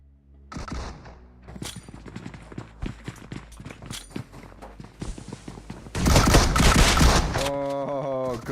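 Rapid gunfire cracks and a burst of explosion noise from a PUBG Mobile esports match, a dense stream of shots followed by a loud blast near the end, under faint commentary.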